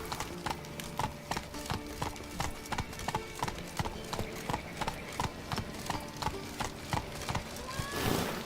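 In The Witcher, Roach the horse gallops in a regular, close rhythm of hoofbeats over background music, ending with a louder burst that may be a neigh.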